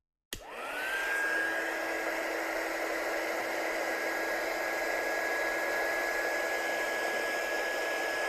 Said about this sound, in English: I'm just going to heat emboss the other side now with this.